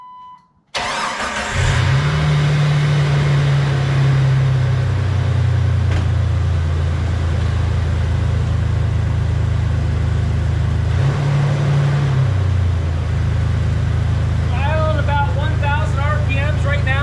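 Jeep 4.0 engine cranking briefly and then catching, idling high and steady after a new 62mm throttle body install on a cold day; the idle dips once midway and recovers, loud and close.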